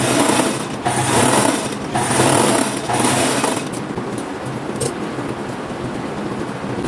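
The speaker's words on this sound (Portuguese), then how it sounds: "Nós vamos abater essa costura para esse lado aqui do pedacinho pequeno." A sewing machine runs in close, loud bursts of rapid stitching as it sews down a seam on fabric for women's tailored shorts, then continues more softly with no voices.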